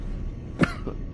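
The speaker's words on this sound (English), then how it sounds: "I'm gonna cough again." A single sharp, throaty cough from someone nearby, brief and isolated against a quiet room background with no talking.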